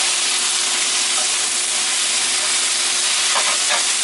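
Steak and chicken fajitas sizzle loudly in a pan, a steady, dense hiss that runs unbroken throughout with no voices.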